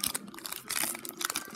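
A Pokémon Sword & Shield Fusion Strike booster pack wrapper is torn open and crinkled. Soft, brief, crackly plastic rustling comes close up for a moment.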